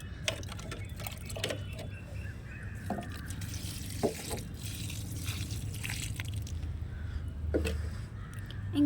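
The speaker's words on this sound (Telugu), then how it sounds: "ఇప్పుడు వాటర్ వేసుకుందాం మనం." Water poured over freshly planted seedlings in a pot, a soft continuous trickle and splash with scattered drips and small knocks, fairly quiet and close.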